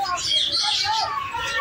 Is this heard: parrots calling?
yes